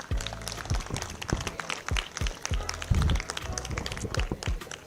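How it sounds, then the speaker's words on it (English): Applause breaks out from an audience at a live-streamed event in the Ahafo region, with sharp, uneven claps and crowd noise running steadily throughout at close range. "I think he deserves a big round of applause."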